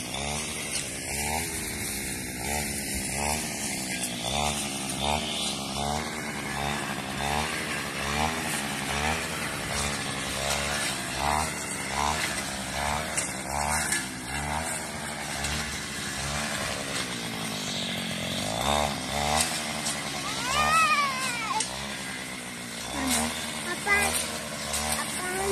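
Grass cutter running steadily on a farm, a loud, close, continuous buzzing engine whine that rises and falls as it cuts through grass for the whole stretch.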